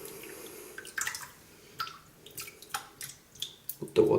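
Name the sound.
shaving brush dipped in water, dripping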